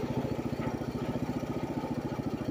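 A 1973 Wheel Horse 8 lawn tractor with a four-speed sits at idle, its small engine giving a steady, rapid, even chugging pulse at close range with no speech over it.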